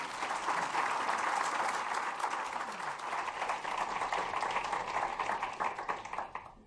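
An audience applauding to welcome Lord Mervyn King and Rachel Maddow at NYU Stern, a sustained wash of clapping from a large crowd that fades out at the end.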